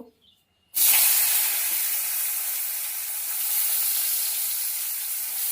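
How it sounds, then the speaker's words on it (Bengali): Sliced radish hits hot oil in a pan after small fried fish, giving a sudden loud sizzle that settles into a steady, bright hiss of frying. "এবার ওই তেলের মধ্যে কেটে রাখা মূলো দিয়ে দেব"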